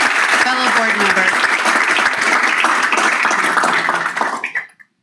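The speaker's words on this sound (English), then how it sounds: "So if we can get a round of applause for Tasha and her fellow board member." A school board meeting audience applauds PTA board members, loud dense clapping with some voices mixed in, cutting off sharply near the end.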